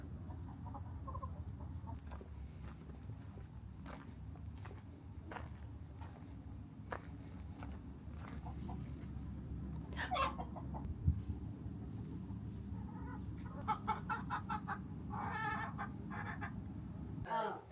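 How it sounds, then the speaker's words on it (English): Chickens clucking softly in the distance at Colonial Michilimackinac, over a low background rumble, with scattered short calls throughout. "Thought I heard chickens. I did hear chickens."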